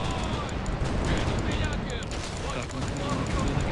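Heavy booming ship cannon fire in the video game The Pirate: Caribbean Hunt rolls on continuously, dense overlapping blasts forming a loud, chaotic barrage with shouting voices mixed in.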